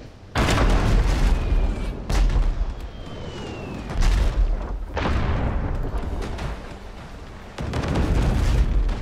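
Ship cannons firing round shot in the naval video game Abandon Ship, a series of heavy booming blasts spaced a second or two apart, loud and reverberant, with no talk.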